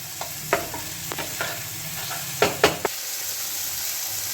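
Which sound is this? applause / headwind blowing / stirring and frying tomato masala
stirring and frying tomato masala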